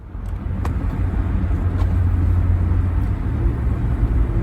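Steady low rumble of a car interior while driving on a road in Cincinnati, constant engine and road noise filling the clip with a few faint clicks and no talking.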